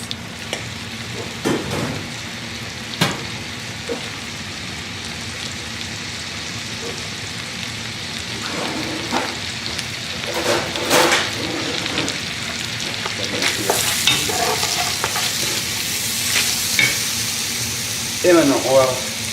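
Onions and shallots fry in a pan, giving a steady sizzle broken by scraping stirs and clatter of utensils, close by, with a voice speaking over parts of it.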